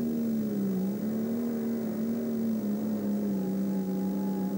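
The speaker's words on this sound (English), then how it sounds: "Taking his time to build up the revs." A pulling tractor at a European tractor pulling event drones steadily and somewhat distantly, its engine note holding and slowly building revs for a few seconds.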